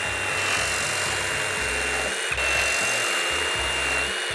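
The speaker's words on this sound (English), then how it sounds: "The combination of value and power make the Hart Reciprocating saw an awesome tool." A Hart brushless 20-volt reciprocating saw cutting, giving a steady buzzing drone with a pulsing low chatter that runs unbroken throughout, close and moderately loud.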